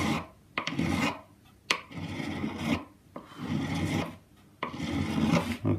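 A file rasps along guitar frets on a custom Telecaster build in repeated strokes of about a second each, close and clear, separated by short pauses when the tool is lifted, with no talking.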